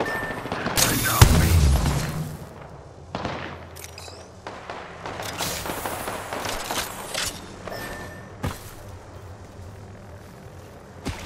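Scattered video game gunfire and booms from Apex Legends pop irregularly amid game effects, some shots sharp and close, others thinner, with character voices speaking between them.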